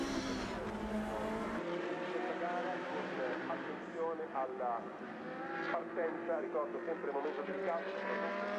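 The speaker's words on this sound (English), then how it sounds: "As the cars scream away" Ferrari Challenge race cars on the grid at Portimao in 2014 screaming away, engines roaring and fading, a continuous loud wash beneath a commentator's voice.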